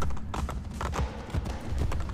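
Horse hooves clop in a quick galloping rhythm, close and steady, in the video game Assassin's Creed Brotherhood, with no one speaking over them.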